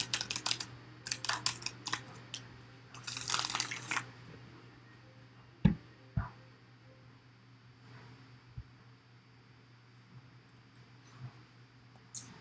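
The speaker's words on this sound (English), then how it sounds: "A lot of shuffling." Quick bursts of tarot card shuffling riffle in the first few seconds, followed by occasional soft taps and clicks in a quiet room.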